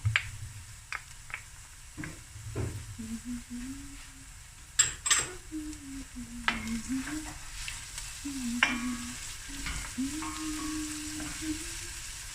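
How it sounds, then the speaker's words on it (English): Minced garlic and grated ginger sizzle steadily in a hot pan for a beef mince dish, with close scraping stirs, clinks and spoon taps over the continuous frying, no talking. "now I'm going to add 2 tablespoons of fresh garlic, chopped up or minced, and 1 tablespoon of freshly grated and peeled ginger"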